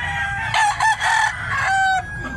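Roosters on a farm with many chickens crow loudly and close, two or three drawn-out calls in a row, with clucking mixed in.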